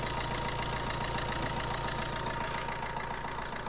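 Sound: 2009 Fiat Linea car engine idling, bonnet open

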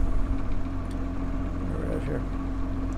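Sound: 6-pole window motor running at full power

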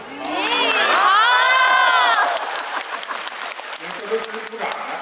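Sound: audience applause at a crosstalk show

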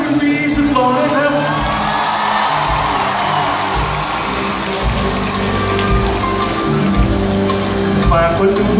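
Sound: crowd cheering for actor at red carpet event

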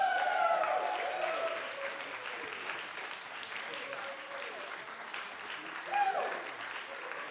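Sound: audience clapping

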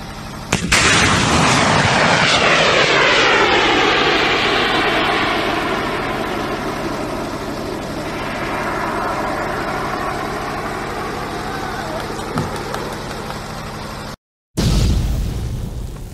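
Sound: Nag anti-tank guided missile test firing and explosion

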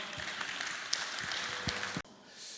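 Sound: audience applause

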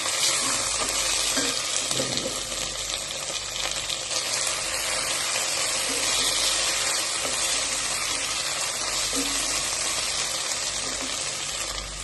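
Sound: ginger and garlic paste sizzling while being sautéed in a pan

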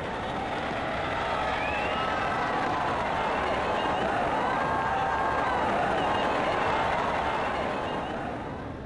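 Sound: disappointed crowd in video game Brian Lara Cricket 99

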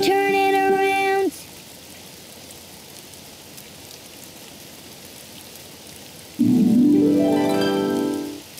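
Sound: rain falling outside

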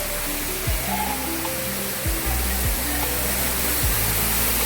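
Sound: waterfall near Rudreshwar temple

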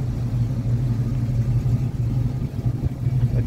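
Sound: exhaust note of 1986 Chevrolet K10 4x4 pickup truck

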